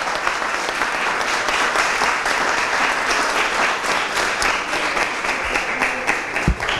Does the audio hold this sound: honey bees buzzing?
no